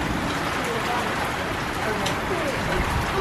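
Steady rain pours down during a storm, a dense continuous hiss with scattered drops heard outdoors near a Shelby GT500, loud and unbroken with no voices.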